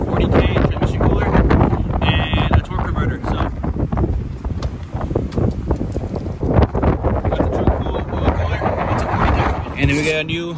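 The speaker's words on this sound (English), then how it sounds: "All right, it's hella windy out there." Strong wind gusts buffet the microphone outdoors, rushing and roaring in uneven bursts throughout, while a person talks over the noise.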